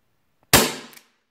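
A single sharp, close shot from a GSG Diana Raptor .177 CO2 air pistol firing diabolo pellets, with a quick hiss-like decay, alone against silence.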